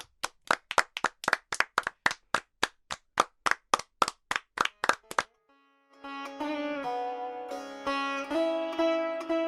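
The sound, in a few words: classroom children clapping for everyone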